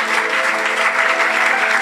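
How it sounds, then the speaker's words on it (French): A church congregation claps and cheers loudly, a dense, steady wash of applause filling the whole short stretch without pause. "Acclamez pour Jésus"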